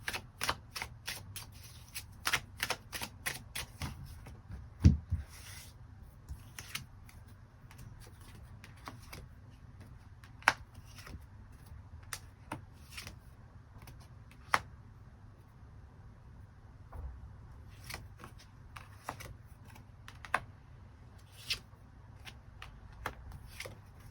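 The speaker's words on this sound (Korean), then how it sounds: "새로운 인연의 가능성에 대해서도 추가 카드 뽑아보도록 하겠습니다" Tarot cards are shuffled and drawn up close. Rapid riffling flutters are followed by scattered crisp snaps and taps as cards are handled and laid down over a quiet background.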